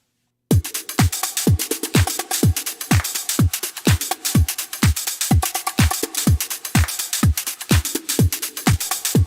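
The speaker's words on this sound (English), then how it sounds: "Just some little drum percussion thing." A programmed drum percussion pattern repeats at a steady tempo, with punchy low kick hits, crisp hi-hat and sharp claps panned hard left and right, loud and dense throughout with no talking.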